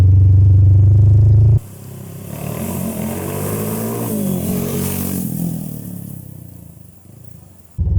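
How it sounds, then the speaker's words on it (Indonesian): Honda CB100 with fuel injection being ridden: a loud burst of close engine noise opens, then a steadier running drone with wind rush that rises and dips in pitch as speed changes, ending with another loud burst. "ini CB nya aku coba jalan"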